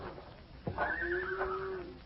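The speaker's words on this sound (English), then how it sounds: "A white horse." White horse neighing in a 1950 Hopalong Cassidy western radio drama, a single drawn-out whinny heard faint and slightly distant, with no talking over it.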